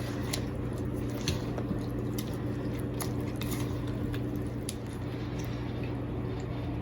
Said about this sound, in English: Go ahead and give that a good stir.